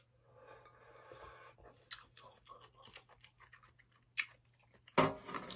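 Someone eating Chapagetti convenience-store noodles at home, with soft, irregular close-up chewing and slurping sounds that grow louder toward the end, capped by a sharp burst near the finish.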